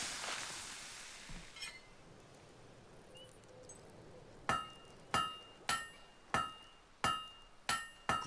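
A blacksmith's hammer strikes a blade at the forge in Fable 3, ringing out in seven sharp metallic clangs at a steady rhythm after a quieter stretch of faint clinks and ambience.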